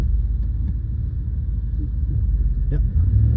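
A Jeep engine in four-wheel drive and first gear revs under strain off-road, with a low, steady rumble close by and some wind buffeting on the microphone.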